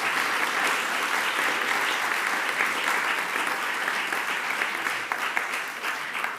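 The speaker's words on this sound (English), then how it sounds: "Big applause" Sustained audience applause fills the hall at a medical journalists' awards ceremony, a dense, steady wash of many hands clapping with no pauses and no talking.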